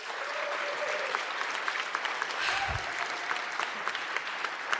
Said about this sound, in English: If I can give a round of applause for my volunteers.